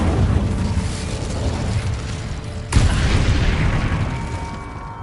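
A fire spell blast in the video game Hogwarts Legacy erupts as a loud, sudden boom midway through, over a rumbling game soundscape that stays dense before and after.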